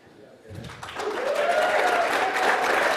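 Applause rises from an audience at a 2025 school ceremony as twelfth graders honour their standing parents, the clapping swelling after a brief start and holding steady and fairly loud, with a little talk in the room.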